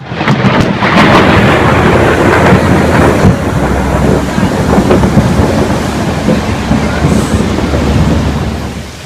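A heavy, close thunderclap from a lightning strike about 40 metres away rumbles loudly and rolls on for several seconds, slowly fading amid steady rain.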